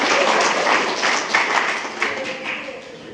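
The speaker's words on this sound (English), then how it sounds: "One more round of applause for that exemplary awards presentation, Dr. Borgen" A board meeting audience applauds after an awards presentation, with close, clearly separate claps swelling early and thinning out over three seconds while a few voices murmur underneath.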